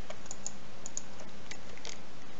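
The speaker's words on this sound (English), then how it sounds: "having trouble typing and talking" Typing on a computer keyboard during a C++ OpenGL programming session: quick, light key clicks come in irregular bursts at close range over a steady background hiss, with no talking.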